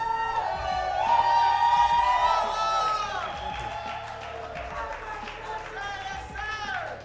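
Crowd at an esports LAN finals cheering and whooping for Ghost Gaming, a loud sustained roar of voices with shouts and whistles that gradually eases, while a host speaks over it.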